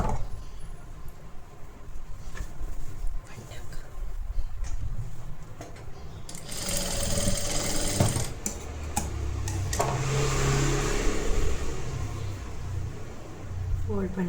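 Sewing machine stitching a flat seam on a collar-neck blouse, a steady mechanical whirr of running stitches that picks up partway through, heard beneath someone talking.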